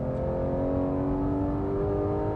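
A car engine revs at high RPM on a race circuit, a loud, sustained, steady harmonic roar that runs unbroken throughout.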